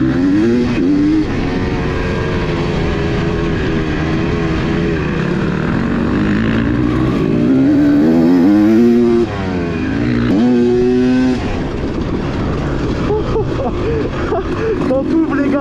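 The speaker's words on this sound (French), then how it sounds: "Quand tu ouvres les gaz comme ça, marche." Engine of a Suzuki SX-style motorcycle rising in pitch as the throttle is opened, with repeated revving sweeps over a steady road drone, close and loud, with a voice talking over it.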